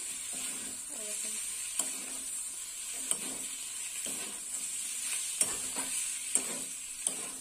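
Potato and pointed gourd pieces sautéed with salt in a pan, a soft steady sizzle broken by regular scraping stirs and light utensil taps, with no talking.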